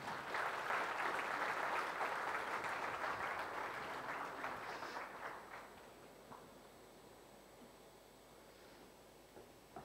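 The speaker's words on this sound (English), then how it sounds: "please welcome with a huge round of applause," A conference keynote audience gives a round of applause welcoming the boAt Lifestyle CEO to the stage, strong at first and then tapering off gradually into a faint room murmur.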